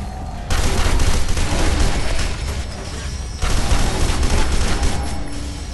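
Dense, loud automatic gunfire in the video game F.E.A.R. 2, one sustained burst, then a short lull, then another long burst, close and harsh.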